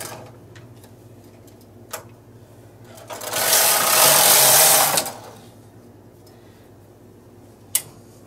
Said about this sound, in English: I put my cam back to stockinette and knit two rows.